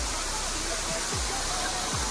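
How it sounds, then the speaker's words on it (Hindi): Waterfall at a hidden spot in Himachal Pradesh, a loud steady broadband rush of falling water filling the whole scene, with faint voices in the background. "ये रहा हमारा वॉटरफॉल"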